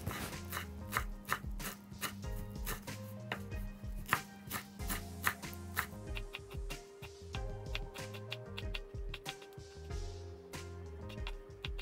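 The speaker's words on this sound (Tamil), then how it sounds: "நல்லா குட்டி குட்டியாக போட்டில் வச்சு வெட்டி எடுப்போம்" Knife chopping washed carrot leaves finely on a board, a fast, steady run of close, crisp taps continuing throughout with a faint hum behind.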